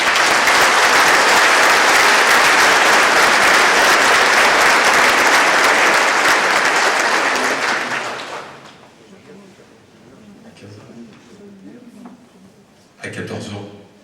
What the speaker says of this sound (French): Vous pouvez déjà l'applaudir.